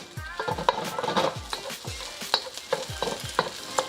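Egg stirred and fried in a pan while making restaurant-style chicken fried rice, with a spatula scraping and tapping the pan in a steady rhythm over a continuous close sizzle.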